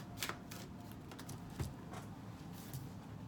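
Oracle card deck being shuffled, giving quiet riffling clicks and soft flicks in a few short bursts over a low steady room hum, with no talking.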